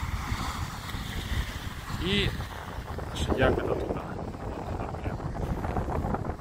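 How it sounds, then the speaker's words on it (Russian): Gusty wind buffets the microphone in low rumbling waves while a person talks over it outdoors at a beach in Shediac, Canada. "Ну, сегодня ветер. Ветер не холодный."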